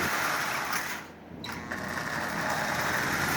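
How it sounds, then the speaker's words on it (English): Marx Canadian Pacific toy train with a lubed, tuned single reduction motor running smoothly, a steady close whirring hum with a brief dip in level partway through, and no voices. "It's a single reduction motor, but it's running just absolutely splendidly."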